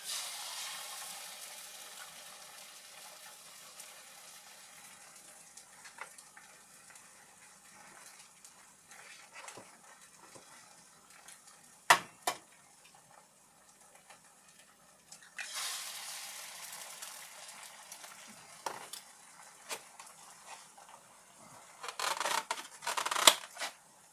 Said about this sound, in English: We're going to cook a few eggs here for the breakfast.